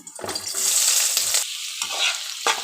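Onions hitting hot oil in a pan for a cabbage fry, with a loud steady sizzle broken by short gaps and stirring scrapes, close up with no talk.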